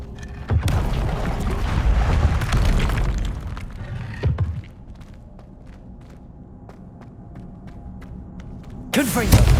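An Incendio fire spell cast in the Hogwarts Legacy video game sends out a loud, roaring whoosh of flame lasting several seconds. It fades to a low hum with faint ticks, then a second sharp burst flares near the end.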